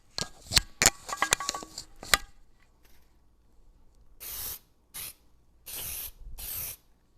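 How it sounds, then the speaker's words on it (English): Cooking spray hisses onto a baking pan for a cobbler in four short bursts, closing a stretch of sharp clatter and handling sounds nearby. No one talks. "Okay, so I've got that sprayed."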